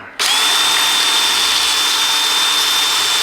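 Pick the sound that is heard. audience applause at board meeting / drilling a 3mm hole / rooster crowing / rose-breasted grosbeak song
drilling a 3mm hole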